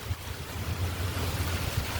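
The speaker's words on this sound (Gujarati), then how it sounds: "અત્યારે જો ફૂલ વરસાદ આવી ગયો તમે જો બતાવી દઉં વરસાદ અને પવન વધારે આવો" Heavy rain and strong gusty wind batter the surroundings during a downpour, with wind buffeting the microphone in a low, rumbling roar under a steady wash of falling rain, close and loud, with no voices.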